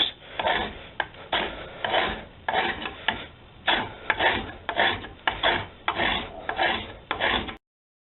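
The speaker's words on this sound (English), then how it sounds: "After an insane amount and a long time of rasping and filing and stuff, I've gotten it almost to the desired size" A rasp worked over a wooden axe handle in push strokes only, giving about a dozen close, rhythmic rough scraping strokes with brief gaps between them.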